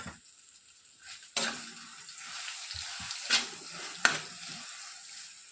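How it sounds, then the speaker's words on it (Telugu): Coconut chutney being stirred in a hot pan: a soft steady sizzle with a few sharp scrapes and clinks of the spoon against the pan, close and quiet, with no talk. "ఈ కొబ్బరి చట్నీని ఇందులోనికి వేసేసి బాగా ఒక్కసారి కలిపేసుకొని"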